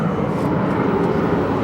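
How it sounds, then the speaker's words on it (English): Steady roar of an Embraer E-Jet making a full-power takeoff at Phoenix Sky Harbor Airport, a dense, continuous engine noise with a thin whine, loud and unbroken throughout. "It's not often that you hear the E-Jet have an engine whine like that."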